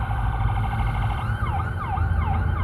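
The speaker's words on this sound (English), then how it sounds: "hearing them sirens" A wailing siren rises and falls in repeated sweeps, loud and steady, with a low rumbling hum of traffic beneath it.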